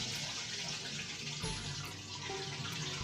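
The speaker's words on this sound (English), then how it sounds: "we're gonna use this colander to strain the water out of the Orbeez" Water drains out of Orbeez water beads through a colander into a sink, a steady close splashing, pouring rush lasting the whole moment with no talk.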